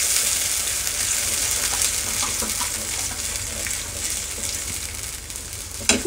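Bread Manchurian mixture with soy sauce is stirred in a pan, giving a steady broadband sizzle of frying throughout, with a few soft scraping stirs and a sharper clink near the end.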